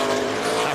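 A NASCAR stock car engine at the 2003 Subway 500 surges in revs as its tires spin off a corner, a loud, brief racing roar heard up close.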